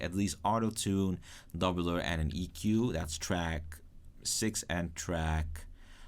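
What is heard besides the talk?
No distinct noise like a dog, phone or traffic.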